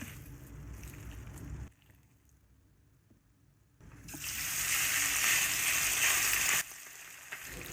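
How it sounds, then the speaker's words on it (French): Lamb meat sizzles in hot oil in a wok over medium heat, a crackling fry that drops nearly silent for a couple of seconds, then surges back loud and bright before easing. "Je fais sauter ma viande sur un feu moyen afin de lui donner le temps de bien cuire et surtout de rester tendre"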